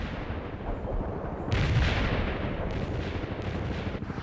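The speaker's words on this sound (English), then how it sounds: "Artillery strike." Artillery strike in the real-time strategy game World in Conflict, a rolling rumble of distant heavy impacts with a louder blast surge midway, continuous low battlefield thunder without speech.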